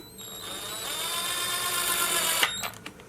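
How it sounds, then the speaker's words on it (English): Small cordless electric impact driver spins a bolt into a mountain bike frame, a rising whine held for about two seconds, then a quick stop and a couple of brief rattling clicks, close and alone. "what better way to put bolts in, by the way, than to use a drill"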